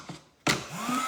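After a faint tap, an American Crafts heat gun bursts on with a loud rushing blast of air, then settles into a steady whirring roar.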